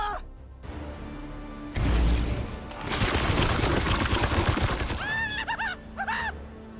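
In Warhammer 40,000: Chaos Gate - Daemonhunters, a loud burst of gunfire erupts into a crashing, shattering explosion lasting several seconds, then trails off into scattered effects.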